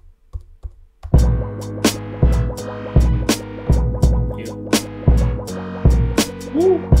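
A sampled beat played on an Akai MPC, with punchy drum hits landing in a steady rhythm over layered, sustained sample tones, loud and close with no talking.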